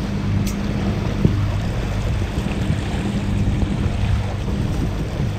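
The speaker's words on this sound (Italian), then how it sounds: "Si va motore e non c'è vento." RM 890+ sailboat motoring under engine in calm air on a passage from La Coruña to Cascais, a steady low droning hum with water wash and wind noise, continuous and fairly close.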